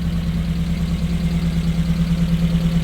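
A Mazda B2000 pickup truck engine runs steadily at idle, close up, with a constant low drone and even throbbing pulse, and no other sounds or voices.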